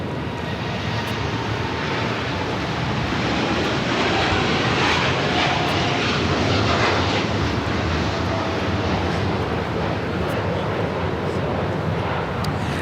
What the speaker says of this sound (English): This is DHL operated by Polar Air Cargo 789 taking off to Anchorage on the 747-8 freighter.